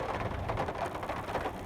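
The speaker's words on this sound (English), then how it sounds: "It's raining heavier now. More steady too." Steady rain falls outdoors on a rainy day at a pasture gate by the road, a continuous dense hiss with soft patter throughout, no speech.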